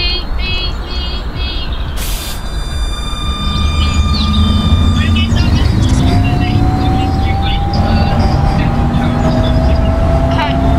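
A tram runs through Croydon in a London transport driving game, its loud engine hum and rising motor whine steady throughout, with electronic chimes and beeps near the start.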